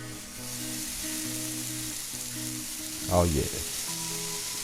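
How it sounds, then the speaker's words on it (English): Bacon fries in a pan with a steady, close sizzle and crackle throughout, while someone talks briefly over it and a louder pop or stirring clatter cuts in near the middle. "we gonna go ahead and fry our bacon"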